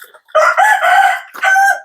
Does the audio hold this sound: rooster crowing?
yes